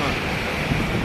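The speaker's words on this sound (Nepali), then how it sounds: "हावा पनि चिसो चलिरहेछ, तर हावाले हानिरहेछ।" Cold wind blows outdoors in Nepal, a steady roaring rush of broadband noise buffeting the microphone continuously and loudly.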